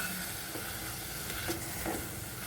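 Coconut masala fries in a pan for a yellow pumpkin poriyal, giving a steady close sizzle with faint scraping from stirring throughout.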